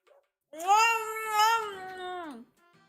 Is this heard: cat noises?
yes